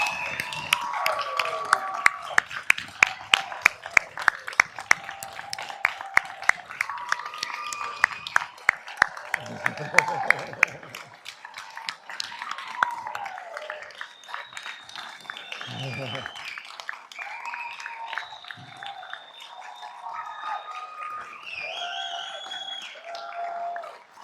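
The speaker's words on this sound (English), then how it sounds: "give a big round of applause to our amazing graduates" Crowd applause for the 2022 graduates at an RRU fall convocation ceremony: dense clapping through the first half, then continuing more thinly while a voice talks over it.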